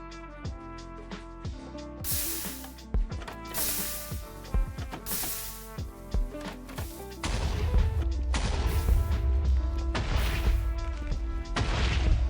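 TNT blasts in Minecraft set off beside a cobblestone and basalt generator, a dense string of sharp booms and crashing impacts, heavier and more continuous toward the end.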